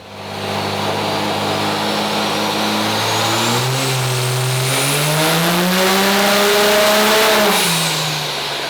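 A 2006 Dodge Ram 2500 with a 5.9 diesel engine, tuned with a big turbo to over 1,100 horsepower, revs on a dyno. The loud, sustained engine note climbs steadily in pitch, then falls away near the end.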